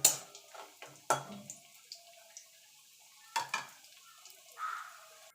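Lentil dumplings (bori) frying in oil in a pan, with faint crackling sizzle and several sharp utensil taps and scrapes spaced through an otherwise quiet stretch.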